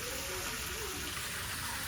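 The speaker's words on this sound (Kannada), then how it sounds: "ಇಲ್ಲಿಂದ ಯಾವಾಗ ಸಹ ನೀರು ಬರ್ತಾನೆ ಇರ್ತದೆ" Water pouring constantly from a spout at the Kashi Bhagirathi Tirtha Gomukha Ganapati temple, a steady, soft, continuous gush with no break over the short moment.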